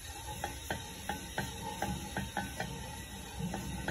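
Half an onion is rubbed back and forth over a hot iron tawa to grease it for dosa, giving a steady sizzle broken by regular scraping strokes about twice a second, with no talking.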